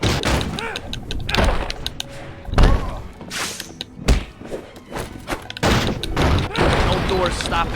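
In the Spider-Man 3 video game, a door is punched repeatedly and broken through, producing heavy irregular thuds and slams with a sharp crack near the end, under a voice talking over the action.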